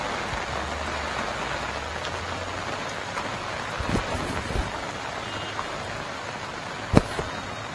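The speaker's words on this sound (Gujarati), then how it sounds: "ગઈકાલથી સતત સુરત શહેરમાં ભારે વરસાદ પડી રહ્યો છે." Heavy rain falls on the city of Surat as a steady, dense hiss of downpour, broken by a few scattered knocks and splashes, with no voices.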